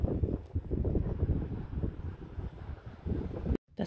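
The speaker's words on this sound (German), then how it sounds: "Es ist echt windig." Strong wind on the Biokovo mountains in Croatia buffets the microphone in continuous loud gusts of low rumble and roar, cutting out for a moment right at the end.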